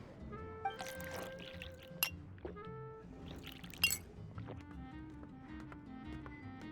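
Glasses clink and juice pours in the game Genshin Impact, with a few sharp glassy clinks and short liquid pours over soft ambient game music.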